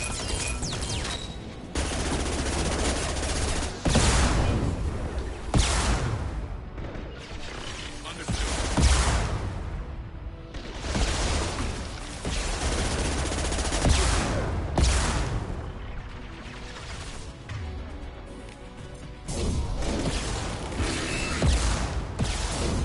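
Sustained bursts of automatic gunfire and heavy weapon blasts in the Mass Effect video game, loud and continuous with periodic sharper impacts and a busy combat background, with no talk over it.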